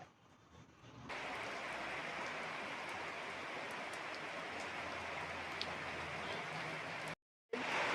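Steady, dense rain hissing down without a break, starting quietly and then swelling to a constant downpour.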